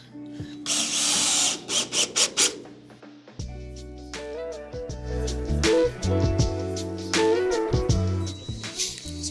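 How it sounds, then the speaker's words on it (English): A power drill pre-drilling and driving screws into sauna wall boards during an outdoor sauna build, with repeated short whirring bursts and revving, plus clicks and thuds between runs. "pre-drill them all and then screw them all"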